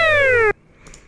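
Scratch's alert sound effect plays in reverse as a loud, buzzy electronic tone that slides downward in pitch for about half a second, then stops abruptly, leaving faint background noise.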